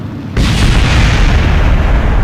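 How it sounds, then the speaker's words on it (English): A Kerbal Space Program rocket staging explosion bursts in suddenly and fills the clip with a loud, sustained roaring boom that stays heavy and steady to the end. "Love me an explosion in the morning."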